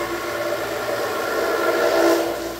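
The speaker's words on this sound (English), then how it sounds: "As the mill comes around and some of these places are thin foam that's left, it tends to get a little loud" KUKA robot arm CNC mill cutting through thin EPS foam on a dragon head carving, a continuous loud whining, humming drone that swells slightly toward the end.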